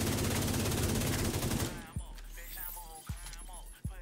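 Rapid automatic gunfire rattles in The Division 2, a dense fast burst that cuts off, followed by a few isolated heavy thumps over a quieter background with faint voices.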